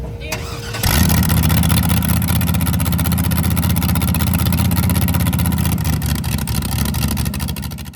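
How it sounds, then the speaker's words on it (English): Burnout car's engine warming up at a race track, starting with a quick catch then settling into a loud, steady rumbling idle with throaty pulsing that holds throughout, close by. "we're gonna go ahead and warm up the car"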